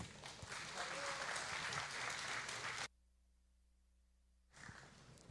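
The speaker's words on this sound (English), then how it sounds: "So warm applause for Storm" An audience at a Rust and Ethereum tech event applauds a speaker in a dense, steady wash of clapping that stops abruptly, followed by near silence and then a brief return of clapping at the end.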